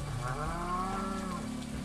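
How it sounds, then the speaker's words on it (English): A dairy cow in a farming video game lets out a single long, full moo, close and loud, heard alone without speech. "Yeah, we'll get a dairy cow."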